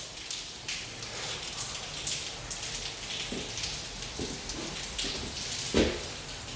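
Steady rain falling outdoors during a bathroom remodel in Los Angeles, a continuous close hiss of drops on surfaces with a few louder taps and splats standing out, no talking.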